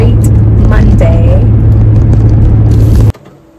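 Steady low engine rumble and road noise from inside a moving car on a weekday afternoon drive home, continuous and fairly loud, then cutting off abruptly near the end.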